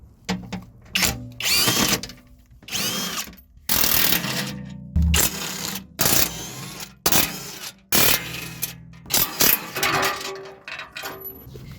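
A power tool whirs in short repeated bursts, loud and close, as 13 mm bolts come off the underbody plate of a Mercedes CLS 53 AMG, with clicks and clatter between runs.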